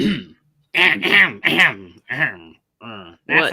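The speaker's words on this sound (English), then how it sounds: "the sound I make when I clear my throat" A person makes a series of gruff, voiced throat-clearing noises in short bursts with brief pauses, close and loud.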